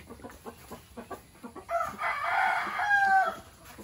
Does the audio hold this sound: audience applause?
no